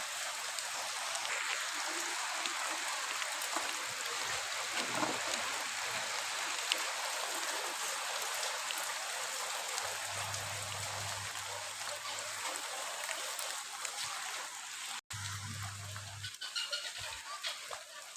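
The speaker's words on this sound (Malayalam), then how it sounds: "നല്ല മഴയാണ് കേട്ടാ." Constant heavy rain hisses throughout, with a few low hums and a faint bird call now and then.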